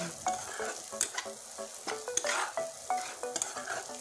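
Spice paste frying in oil for an egg dish, a soft sizzle broken by repeated scraping and stirring strokes against the pan, close and irregular, with no voices.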